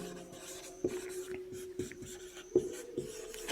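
Definition being written on a classroom board during a physics lesson: a quiet run of scratchy strokes and taps in separate bursts, near and faint, with no voices.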